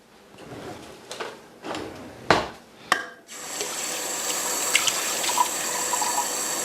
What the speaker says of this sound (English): put our half a cup of water in it.